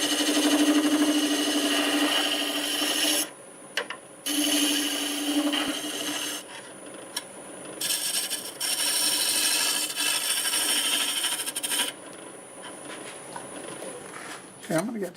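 A scraper smooths a piece of black walnut spinning on a wood lathe, giving steady rasping bursts of several seconds separated by short pauses as the tool lifts off, close and loud.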